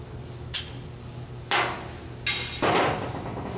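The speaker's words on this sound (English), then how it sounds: "find a good size punch so we could punch this bolt out" A hammer strikes a punch to drive a bolt out of a part held in a vise, giving four sharp metallic blows spaced irregularly over a few seconds, close and ringing, with quiet room noise between hits.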